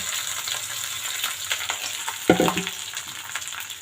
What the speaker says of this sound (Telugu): ఇప్పుడు రైస్ వేసుకుందాము. కొద్ది కొద్దిగా వేసుకొని కలుపుకుందాము.